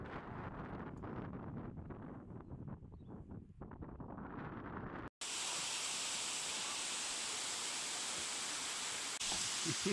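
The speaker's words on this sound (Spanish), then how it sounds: "Esta es la cascada Priong" Waterfall at Seoraksan National Park in South Korea, a loud, steady broadband roar filling the second half after a quieter stretch of outdoor ambience and wind.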